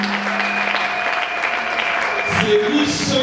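An audience at a church gathering claps and cheers in acclaim for the Lord Jesus, a steady wash of applause with a sustained tone running underneath.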